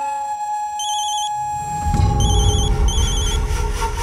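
A telephone rings with a repeating electronic trill in short bursts, fairly clear over a rising bed of background noise from an indoor scene in a Hindi TV serial.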